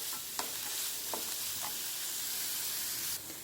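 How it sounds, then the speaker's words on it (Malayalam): Chopped onions sauté in hot oil for masala khichdi, giving a steady, close sizzle with a few scraping stirs of the spoon. No voices are heard. "അപ്പം ഞാനിനി ഇതിലേക്ക് സവാള എടുത്തിട്ട്, അപ്പോൾ തന്നെ സവാളയെ ഞാൻ നന്നായിട്ടൊന്ന് വഴറ്റിയെടുക്കട്ടെ"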